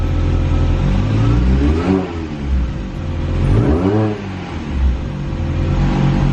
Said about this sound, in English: try and fire up the Mini before I go to work, just to see how bad the motor is